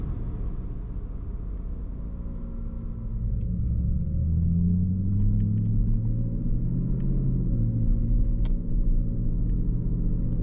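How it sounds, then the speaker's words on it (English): Car with a ZF 6-speed automatic transmission accelerating, its deep engine rumble rising in pitch, with clean gear changes audible as the tone drops and climbs again, close and steady with no talking. "The shifts are clean, quick, and solid."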